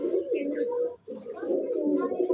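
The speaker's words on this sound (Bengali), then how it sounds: "পায়রা বন্ধুরা হাতে থাকে না, ছটপট করে খুব।" A pigeon held in the hand coos in two low, throaty phrases close to the microphone, separated by a brief pause.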